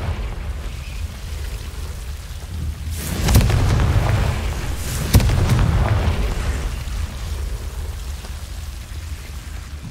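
Fire-blast spell explosions in the Hogwarts Legacy video game: two sharp, loud booms a couple of seconds apart, each trailing into a rumbling crackle over a steady hissing game ambience.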